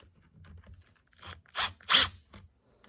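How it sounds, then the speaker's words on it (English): An impact wrench tightens the clutch cover bolts on a Kawasaki motorcycle in a star pattern, giving a few short, close rattling bursts separated by pauses, with no talk. "Now we'll just hit them with the impact. Just go in a star shape."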